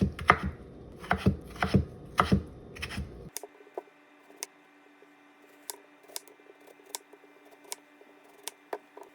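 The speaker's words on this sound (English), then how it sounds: "I'm just gonna cut these into smaller pieces." Kitchen knife chopping food on a cutting board while preparing French dishes: a burst of dense, loud chopping strokes for about three seconds, then sparse, lighter individual cuts and taps at irregular intervals over a quiet background.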